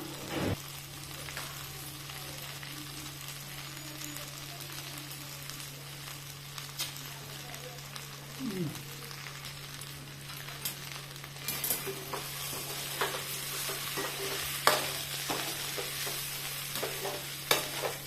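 Eggplant frying in a pan for a vankaya fry, stirred with a spatula: a continuous close sizzle with scattered scraping strokes that grow busier and louder toward the end, over a faint steady hum.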